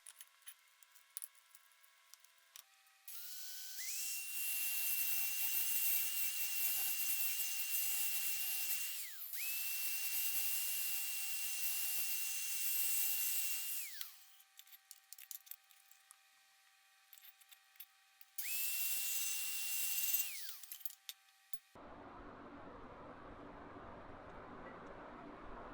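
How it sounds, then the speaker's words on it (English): A variable-speed grinder set to 13,000 RPM works into the inside corner of a welded furniture joint, three long high-pitched whining bursts of grinding separated by short pauses, close and loud, ending with a different lower rushing noise. "So we'll set our grinder to that and we'll take some stabs at this corner and see how we do."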